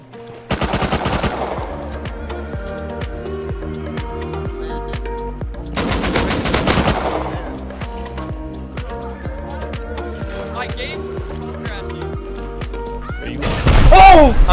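Bursts of automatic gunfire and rocket blasts in a base raid in the survival game Rust, with rapid volleys and sustained game audio beneath, voices present alongside.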